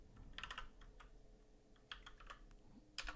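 Keys tapped on a computer keyboard, short bursts of light clicks with pauses between them, close and fairly soft, no voices.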